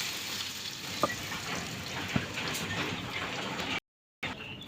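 Mashkalai (black gram) dal poured onto fried cumin paste sizzles and crackles steadily in a hot pan, with a couple of sharp clinks, then a brief dropout of sound before the sizzle resumes.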